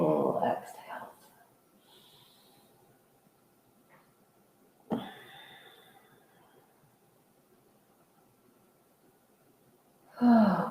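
Deep, slow exhaling breaths during a yoga session, a strong breath out at the start, another near the middle and a third at the end, separated by long quiet stretches.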